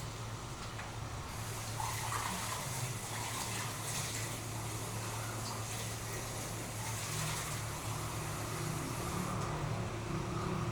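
Water runs steadily into a cooking pot for several seconds, a continuous gushing pour over a low background hum.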